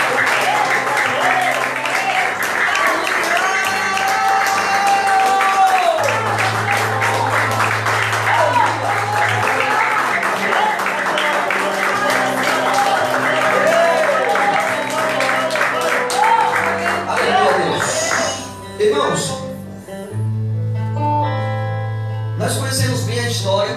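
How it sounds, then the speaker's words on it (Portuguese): A church congregation applauds over loud music with sustained tones and voices, the clapping forming a broad, steady rustle beneath until the music thins near the end. "Vamos dar uma salva de palmas para a palavra."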